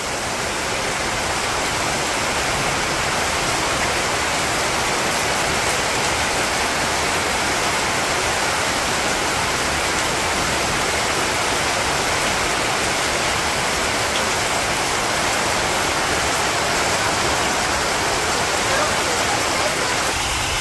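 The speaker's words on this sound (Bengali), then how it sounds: "ওইদিকে দেখেন এতটা বৃষ্টির অবস্থা, কোনো কিছু দেখাই যায় না" Heavy rain pours down in a dense, unbroken roar that stays loud and even from start to finish.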